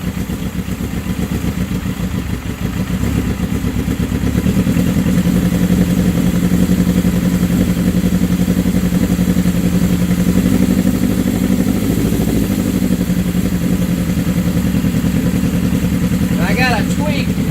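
A 1979 Suzuki GS750 four-cylinder motorcycle, started after a year without running, idles loud and steady, its low rumble swelling slightly as the idle is raised, with brief clatter near the end.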